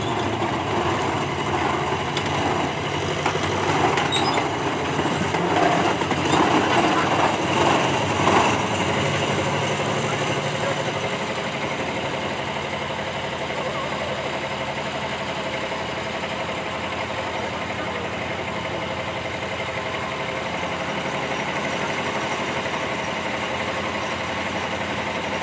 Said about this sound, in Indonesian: Oke, lokomotif mulai mundur untuk menarik rangkaian lori yang sudah dievakuasi.